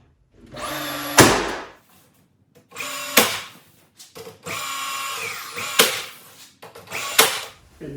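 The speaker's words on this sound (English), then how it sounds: "I'm fortunate enough to have a brad nail gun" Brad nail gun firing into a paint and stain cabinet, five sharp pneumatic bursts with a whirring mechanical undertone, spaced about a second or two apart, close and loud.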